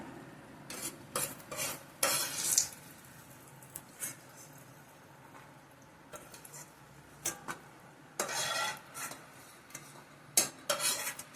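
Cashews frying in a pan until brown, stirred with a spoon in scraping, clattering bursts over a soft sizzle, close and alone with no talking.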